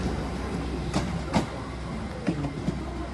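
A Class 802 train rolls through Exeter St David's station, a steady low rumble with several sharp wheel clacks over rail joints, fairly close and moderately loud.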